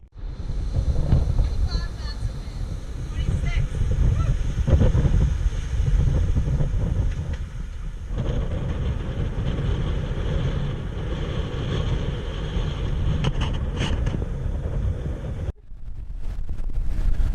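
A sailboat moves upwind off a Greek island beach, with steady wind roar buffeting the microphone and waves rushing along the hull, continuous and fairly loud, then a brief drop near the end.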